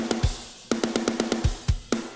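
A programmed drum pattern plays with flat, uniform velocities, giving a mechanical, robotic feel: kick and snare hits with rapid, evenly spaced hi-hat or tom strikes, all at identical loudness, close and dry.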